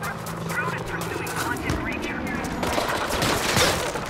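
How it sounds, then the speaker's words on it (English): Enemy gunfire in Mirror's Edge: Catalyst comes as a dense, continuous burst of rapid shots aimed at the player. It stays loud and steady, with a voice speaking over it. "Why is it shooting me?"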